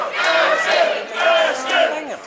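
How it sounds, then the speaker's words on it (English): A lively crowd at a party cheers and whoops in rhythmic, swelling bursts that rise and fall several times, loud and close. "listen to this great crowd here"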